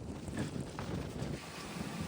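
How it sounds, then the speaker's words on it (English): A gust of wind in a midnight summer windstorm in Watertown, South Dakota, rushes steadily over the microphone as a soft, continuous roar. "That was a really strong gust of wind."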